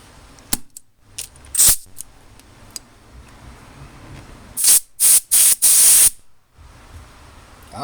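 An air compressor blows bursts of air through a repaired hose: a couple of brief hisses, then four loud, close blasts in quick succession, each cut off sharply.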